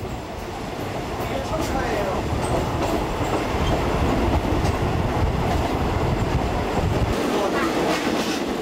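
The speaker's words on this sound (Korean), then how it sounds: "죽음의 철도는 미얀마와 국경을 맞대고 있는 태국 서부 드넓은 평원 지대와 이 지역의 젖줄인 콰이강을 따라 달립니다." A train rolls along the Death Railway through the broad plains of western Thailand beside the River Kwai. It makes a steady, loud rumble with rail clatter throughout.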